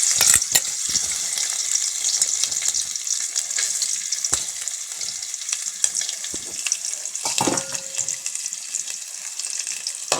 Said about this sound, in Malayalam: അതിനകത്തോട്ട് കുറച്ച് തേങ്ങാക്കൊത്തിടാം